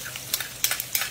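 Ginger and onion sautéing in a pan for laing, with a close sizzle and several quick stirring scrapes breaking through, and no voices.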